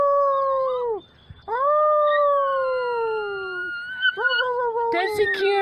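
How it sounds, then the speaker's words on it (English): A young dog gives a run of drawn-out, sliding howls, breaking off briefly near the start, then wavering into higher yips and cries toward the end, loud and close. "That is the cutest little howl ever."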